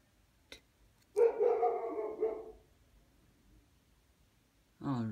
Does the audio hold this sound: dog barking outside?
yes